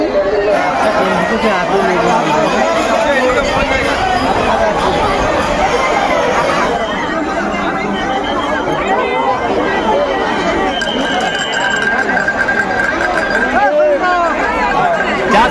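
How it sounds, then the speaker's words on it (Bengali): A dense crowd of pilgrims fills a railway station with loud, continuous chatter, many overlapping voices close by, with shuffling movement and occasional higher calls above the babble. "আর জাস্ট ভিড়টা দেখো রেলওয়ে স্টেশনে, প্রচুর ভিড় প্রচুর"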